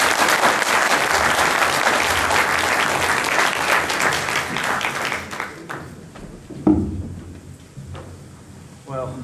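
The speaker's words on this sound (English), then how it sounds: "please, a warm round of applause for all the panelists" An audience at an entrepreneurship panel in San Diego gives the panelists a loud, sustained round of applause that thins into scattered claps and fades out, followed by a few thumps and a voice.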